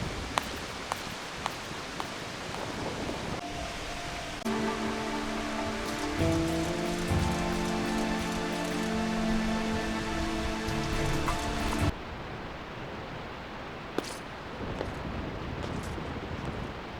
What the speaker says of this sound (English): this is the first time I've ever felt the rain on my skin.